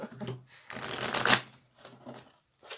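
A deck of tarot cards is shuffled up close in one long, rough riffle that swells and then stops, followed by a couple of softer card flutters and a short final flick.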